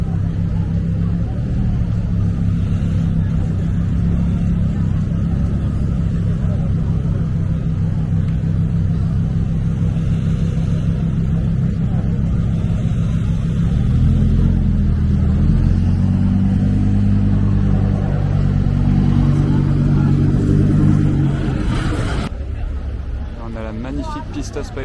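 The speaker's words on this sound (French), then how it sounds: "Magnifique Pista Spider qui sort du casino" A Pista Spider sports car pulls out of a casino entrance, its engine a deep, steady rumble that swells near the end, with crowd chatter underneath before it fades away.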